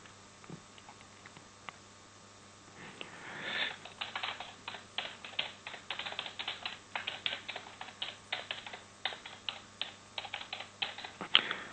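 Fingers type on a computer keyboard at close range, starting after a quiet pause and continuing as a steady patter of quick, fairly soft key clicks with slight gaps between bursts.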